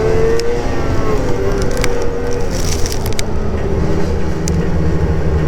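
A Ski-Doo RXC snowmobile engine drones loud and continuous during a big wheelie on a snowy hilltop overlook, a dense, steady roar with slight pitch shifts and faint ticks, no voices.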